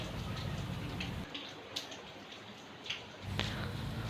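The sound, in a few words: heavy rain falling in a village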